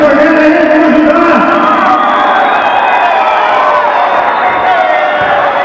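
Loud, sustained roar of fans cheering and whooping at a Pentagon Combat MMA fight, a dense crowd of shouting voices filling the whole stretch without a break.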